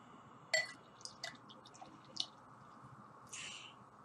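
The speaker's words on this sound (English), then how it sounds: "Let's give it a pour." A 6.6% ABV Oktoberfest beer is poured into a glass: a sharp glassy clink, then scattered soft splashes and drips, and a brief foamy fizz near the end, all fairly quiet and close with no voices.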